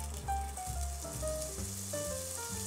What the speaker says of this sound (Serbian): Pustite nek se lepo sprži.